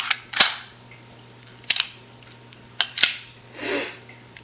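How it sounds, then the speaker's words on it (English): CZ82 pistol dry-fired with an empty chamber, a series of sharp metallic hammer snaps and clicks at irregular intervals, close and crisp, with a soft handling rustle near the end. "thought I'd demonstrate the trigger pull. As you can see, there's nothing in the chamber."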